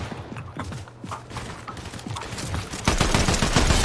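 Gunfire in a shooter video game, a busy stream of close cracking shots in quick irregular bursts that grows denser and louder toward the end.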